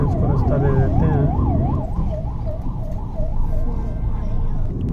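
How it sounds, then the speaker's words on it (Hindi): An ambulance siren wails in a repeating rising and falling pattern as it comes up from behind on a road under construction near Rohtak, loud over steady road and engine noise inside a moving car. "पीछे से आ रही है एम्बुलेंस, एम्बुलेंस को रास्ता दे देते हैं।"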